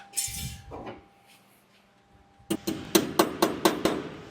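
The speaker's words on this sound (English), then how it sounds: "And knock that down with the hammer a wee bit." A hammer knocking down a weld on a 1968 custom VW: a scrape and a few light taps, then a rapid series of about seven sharp metallic strikes, close and clear.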